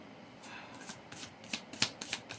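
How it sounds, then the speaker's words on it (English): Tarot cards slide and are laid out on a table, a quick run of soft papery flicks and snaps growing slightly louder toward the end, close and quiet with no speech. "I'm going to have to move these down because when I clarify I've got nowhere to put the cards"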